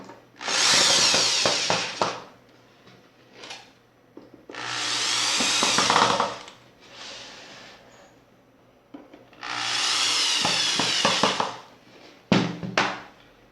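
Power drill driving screws while a shoe rack is assembled, four main whirring bursts of one to two seconds each with short stutters and quiet gaps between.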